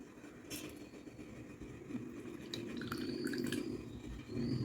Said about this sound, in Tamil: இப்போ நம்ம நல்லா தண்ணி ஊற்றி இதை கரைச்சி எடுத்துக்கலாம்